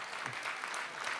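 Audience applause at a Hindi poetry gathering with Swami Ramdev, a brief burst of dense, steady clapping from a crowd, close and fairly loud, with no voices over it.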